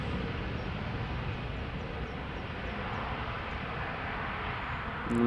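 A KLM Embraer 175 jet at Amsterdam Schiphol during an aborted takeoff, its engines a faint, steady distant rumble that grows a little louder at the very end.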